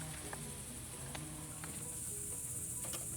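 Wild crickets chirp steadily outdoors in a quiet, continuous chorus, faint and even throughout, with a few soft scattered ticks and no talking.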